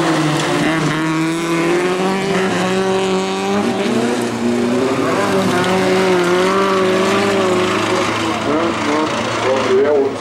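Rallycross cars race around a spring bilcross track at Hønefoss, engines wailing and shifting pitch as they jostle for position, loud and continuous with a commentator talking over the action.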